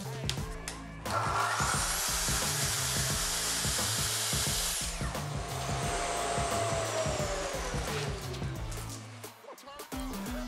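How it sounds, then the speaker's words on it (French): A plunge saw whines loudly cutting through insulation panels for a few seconds, then winds down, over a steady thumping rhythmic background. "Les panneaux se coupent très facilement à la scie plongeante."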